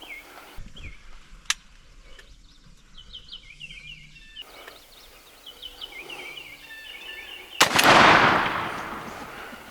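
Birds call faintly in the woods, a single sharp click-like crack, then one loud shotgun blast fired at a wild turkey during a hunt that booms and decays slowly.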